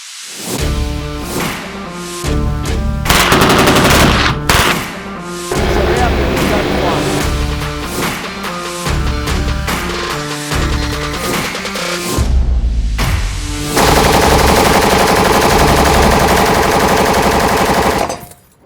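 Guns fire in long bursts of loud, rapid machine-gun shots that echo and run almost without a break, with a few brief pauses between volleys and heavy blasts near the end.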